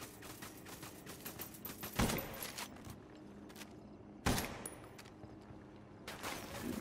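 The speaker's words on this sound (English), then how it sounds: "That shotgun." Shotgun blasts in the video game Ghost Recon Wildlands, two sharp heavy reports about two seconds apart over a busy background of game ambience and faint clatter.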